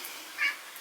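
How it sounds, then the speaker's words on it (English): Boo, a kitten, gives a single short, faint meow against a quiet background hiss. "If you guys hear my kitten, Boo, he's making some noise because he wants mommy to stop filming"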